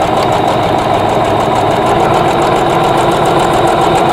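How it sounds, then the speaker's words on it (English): A sewing machine runs at a steady, continuous hum, stitching vintage quilt block pieces together close up with no pauses and no talking. "I'm just going to sew right off of that"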